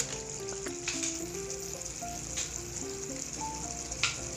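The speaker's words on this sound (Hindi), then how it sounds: "और ये है 4-5 हरी मिर्ची, ये भी हम इसी स्टेप पे डाल देंगे और इसकी करेंगे अच्छी से भुनाई।" Green chillies frying in a pan for butt karahi give a steady, close sizzle that runs the whole time beneath a melodic background tune.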